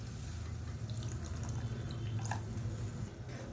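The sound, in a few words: water poured into sambar pan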